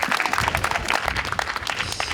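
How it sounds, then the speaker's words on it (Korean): An audience at a university talk concert applauds in a dense, steady patter of many hands, fairly close and loud across the whole moment. "박수 한번 주세요, 여러분"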